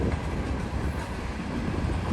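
A train rolls by close at hand on a rail line, its steady, loud rumble and wheel noise filling the moment without a break and with no voices.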